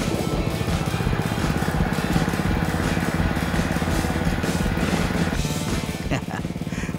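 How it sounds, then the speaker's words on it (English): Loud, steady rattling drone of a Dr. Power brush mower engine running with its blade engaged, a continuous chugging roar close by with no pauses. "Here's what it looks like underneath the mower when the blade's engaged."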